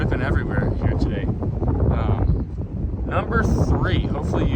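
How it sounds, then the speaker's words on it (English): Strong gusting wind outdoors in Southwest Colorado, a loud continuous roar buffeting the microphone with surges and rustling throughout. "Here comes another gust of wind."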